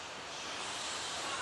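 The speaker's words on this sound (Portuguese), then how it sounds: "Gente, barulho de mar." A sea waves sound effect plays during a church stage skit, a steady hissing wash of surf that swells slightly toward the end, heard alone without voices.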